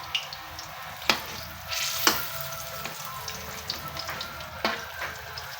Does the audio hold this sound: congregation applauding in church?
no